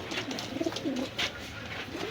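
Pakistani pigeons in a shop give soft, low, rounded coos, a few short calls close by, over a faint background hum.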